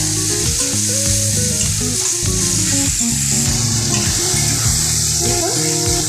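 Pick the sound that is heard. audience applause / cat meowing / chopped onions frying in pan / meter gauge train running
chopped onions frying in pan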